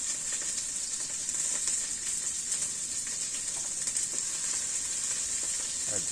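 Chili, garlic and onion frying together in hot oil, a constant loud sizzle and hiss with faint stirring knocks, no voices.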